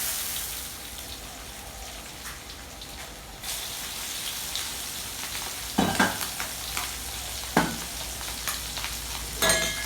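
Mussels stir-fried in a pan, a steady broad sizzle with a spatula scraping and knocking against the metal now and then, close and alone without talk.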